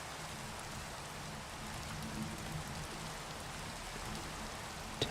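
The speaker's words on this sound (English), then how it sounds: "And then let me also get rid of the rain." Steady rain falls in Minecraft, a soft even hiss of drops continuing without a break, faint and alone.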